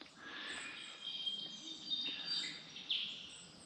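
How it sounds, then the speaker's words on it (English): Morning birdsong in a quiet outdoor setting near Pachuca, Mexico, with several thin chirps and short whistled calls repeating at a moderate distance, faint against a soft background hiss. "You can hear the birds in the background."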